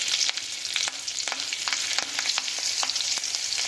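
Ripe chillies sizzle in hot mustard oil with black cumin, a dense, close crackling fry with frequent sharp pops and stirring scrapes, steady throughout and without voices.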